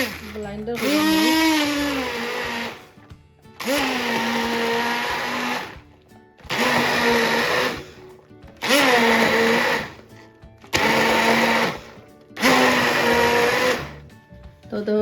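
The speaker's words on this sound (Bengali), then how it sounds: "তখন আমি ডাল দিয়ে ব্লাইন্ডার করে নিব।" A kitchen blender grinds lentils with green chillies and onion in six loud bursts of a few seconds each, with short pauses between them.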